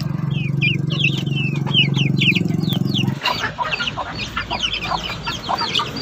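Rhode Island Red chicks and chickens cluck and peep nearby, with a low steady hum under the first half, then a busier mix of chirps and clucks afterward.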